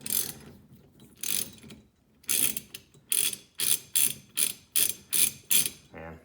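A puller ratchets against a 1974 Corvette steering column part, giving a series of close, sharp mechanical clicking bursts that settle into an evenly spaced rhythm of about eight strokes.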